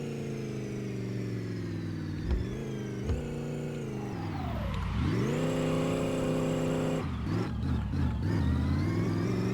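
Car engine in a racing video game revs up toward redline with rising, whining pitch, dips and climbs again through shifts, with steady loud mechanical drone and no talk over it.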